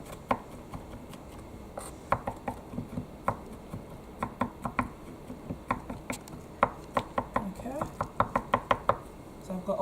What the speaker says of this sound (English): I'm just going to chop these a little bit smaller.